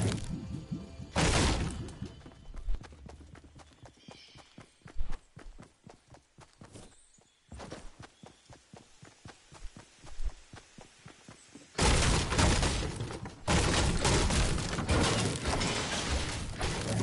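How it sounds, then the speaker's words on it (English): Furniture smashing apart in a battle royale shooter: repeated sharp cracking and splintering hits in a rapid rhythm, with loud bursts of dense breaking noise and brief near-silent gaps between. "You want to get in on this fucking furniture breaking?"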